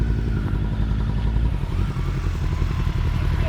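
Motorcycle engine droning steadily throughout as a VOGE 500DSX is ridden on a road in Wales, a loud continuous low rumble close to the microphone with slight shifts in revs.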